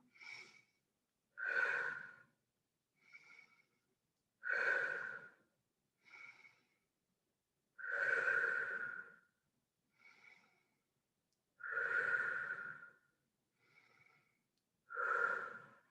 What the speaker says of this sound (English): So do your deep breathing.